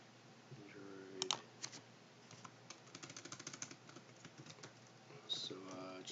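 Typing on a computer keyboard while setting up in Unity, a quiet run of rapid clicking keystrokes with a few sharper taps, faint and close, alongside a voice.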